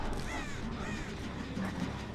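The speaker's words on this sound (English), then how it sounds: "I'm gonna launch out some crows just to get undetectable" Crows caw in Dead by Daylight, several harsh overlapping calls rising over a steady dense background of game ambience, close and fairly loud throughout.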